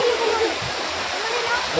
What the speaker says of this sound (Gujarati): આમ પાણી ધોધ પડે